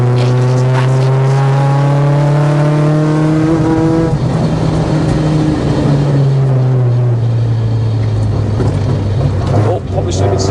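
Modified mk2 Volkswagen Golf GTI from the 80s, its engine droning loudly from inside the car while driving, revs rising then dropping and building again, with road and cabin noise throughout.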